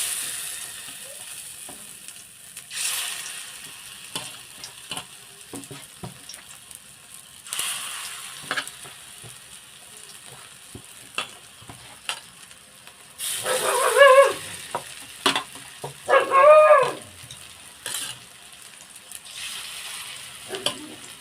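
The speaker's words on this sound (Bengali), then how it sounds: "ভালো করে উল্টিয়ে পাল্টিয়ে ভেজে নেব" Lentil fritters with Malabar spinach frying in a pan, with a quiet steady sizzle and a few louder bursts of stirring and turning near the end.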